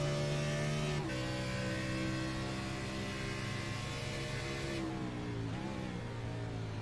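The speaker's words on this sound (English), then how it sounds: "You can hear him downshift as they come here into the S's" An iRacing race car at Watkins Glen winds through the S's, its high engine whine stepping down through a series of downshifts with short pitch drops, loud and continuous.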